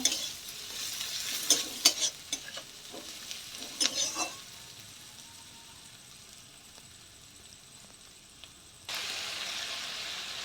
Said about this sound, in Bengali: এরপর মিশিয়ে নেব। তারপরে আবার নেড়ে নেব।